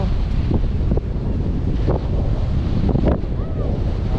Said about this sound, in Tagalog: Lakas na hangin.